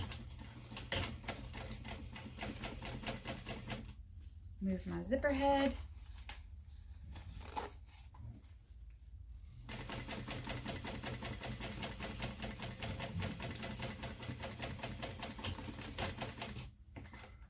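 A sewing machine runs in steady rapid bursts while stitching a zipper into a small mini backpack, pausing briefly midway as someone speaks softly, then resuming its even mechanical chatter.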